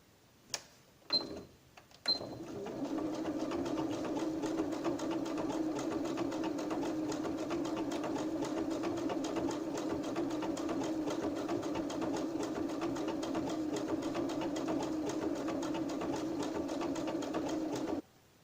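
A Janome 2030QDC sewing machine runs steadily at close range, stitching a buttonhole with a continuous whirring, mechanical hum after a few brief clicks at the start, no talking.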